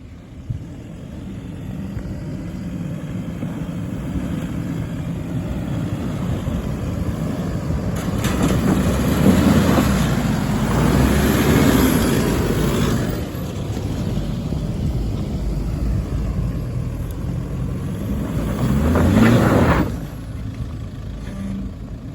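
Several 4x4 off-road vehicles climb a rough, bumpy bluff on a dirt challenge section, engines droning steadily and swelling louder as each one works over the hump, with revving surges near the middle and end and no talk.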